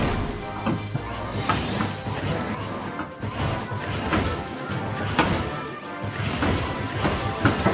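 In the video game Nintendo Labo Robot, buildings are smashed in repeated loud crashes and thwacks, with heavy impacts and crumbling debris following one another in quick succession.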